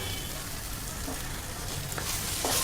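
Eggplant rice with coriander and soaked rice is stirred in a pan, giving a steady soft sizzle with faint scraping strokes near the end, close and continuous.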